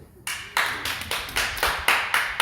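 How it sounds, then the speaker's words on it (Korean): At a Korean church's Friday evening worship service, the congregation claps together in a brisk, even rhythm, about eight sharp unison claps, close and fairly loud. "한번 박수 한번 주시겠습니다."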